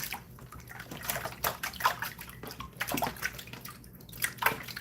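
Water splashes and sloshes in irregular bursts while gold sluicing gear is rinsed clean, close by and fairly loud, with scattered drips between splashes.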